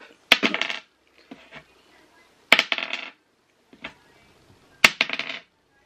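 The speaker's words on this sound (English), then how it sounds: "Let's grab another dice." Dice for a Hot Wheels raffle are rolled three times, each roll a sharp clattering burst with a few quick bounces, separated by silence and small clicks.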